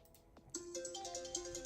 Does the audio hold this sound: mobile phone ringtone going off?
yes